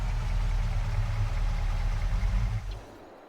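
A car engine idles in the Schwaadeheim farm game with a steady low rumble near the farm entrance, then cuts off at the end.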